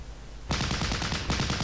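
Rapid bursts of gunfire from the Arnhem battle game Close Combat: Last Stand Arnhem, with a tank firing on infantry; a dense, loud volley starts abruptly after a quiet moment and rattles on steadily.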